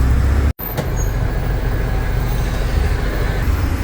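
Steady engine rumble and road noise from inside a crowded city bus heading to the marina in Auckland, New Zealand, continuous throughout with one brief dropout near the start.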